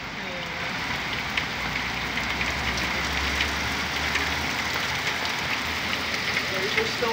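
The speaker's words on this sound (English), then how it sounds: "There's your storm." Heavy rain pours down in a dense, continuous hiss with scattered patters, and a voice speaks faintly beneath it.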